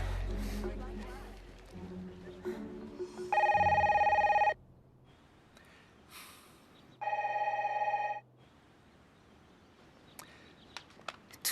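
A telephone rings in two loud, sustained bursts separated by a pause, with talking and background noise around them.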